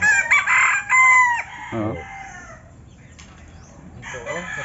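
A red junglefowl (labuyo) rooster crows loudly and close, one long wavering call, then fainter bird noises follow as a man murmurs briefly.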